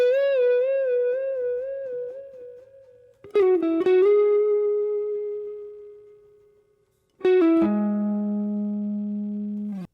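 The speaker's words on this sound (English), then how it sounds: "that's it for the intro lick, which sounds like this" An electric guitar plays the intro lick of a song with sustained, bending notes and heavy overdrive, each phrase ringing out and fading before the next attack.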